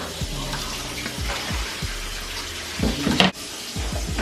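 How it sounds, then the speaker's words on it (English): Tap water running over cooked spaghetti in a kitchen sink, a steady close rush of water with a few brief thumps and a louder splashing burst near the end. "I'm rinsing off the spaghetti"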